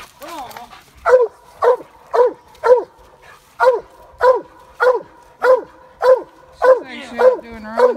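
Hunting dogs bay at a treed raccoon at night, with a steady run of a dozen loud, evenly spaced barks close to the listener.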